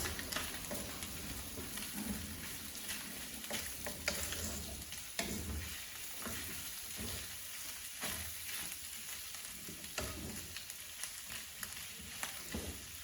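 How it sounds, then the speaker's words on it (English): Peppers stirred and frying in a pan, a steady close sizzle with scraping stir strokes throughout, no voices. "Add the peppers. Mix together with that."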